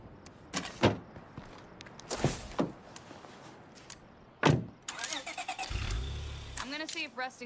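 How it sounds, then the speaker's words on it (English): A beat-up car in the State of Decay 2 video game, with door clunks, an engine turning over and revving, and mechanical whirs; sharp bursts punctuate the sequence amid game sounds. "It's a pretty beat up car too."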